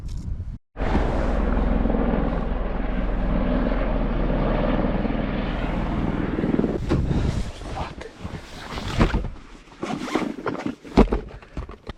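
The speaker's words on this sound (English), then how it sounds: "Looked like a search and rescue helicopter right there" Search and rescue helicopter passing overhead on a windy winter mountainside, a steady loud rotor drone that cuts off into gusty wind buffeting the microphone.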